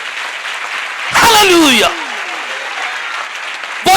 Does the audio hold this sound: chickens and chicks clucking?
no